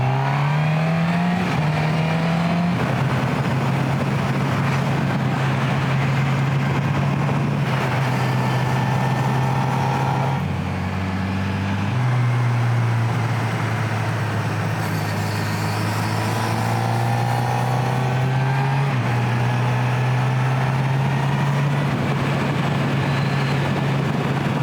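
A naked motorcycle is ridden hard through twisty roads in the Harz, its engine droning loud and steady with shifts in pitch as it accelerates and eases off, under constant wind roar.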